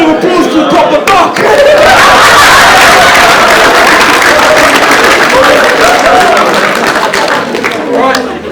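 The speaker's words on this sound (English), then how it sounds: "Round of applause" Sustained applause from a school assembly crowd, broad and loud throughout, with some cheering mixed in and a dip in the final second.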